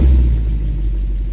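A 2014 Mercedes C63 with 91k km, its cold engine given a light rev, producing a deep loud rumble that swells briefly and then settles into a steady low idle.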